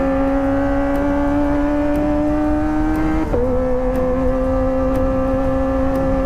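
A Kawasaki Ninja ZX25R engine whines at high revs while being ridden. A steady, loud tone dips briefly at a gear change and then holds again.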